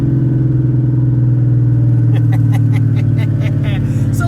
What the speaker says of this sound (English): There's some backfires.